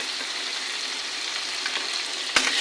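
Spiced goat fat fries in a pan with a steady, close sizzle and scraping stirs, ending in one sharp knock of the spoon against the pan.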